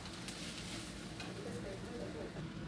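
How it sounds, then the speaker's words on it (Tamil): Tomato and onion stirred in a pan for a mushroom capsicum stir-fry, a soft steady sizzle with faint scraping running throughout at low level. "அது நல்லா போட்டு கலக்கி விடணும்"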